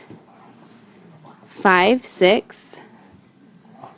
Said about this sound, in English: Sorry, the dog's going crazy.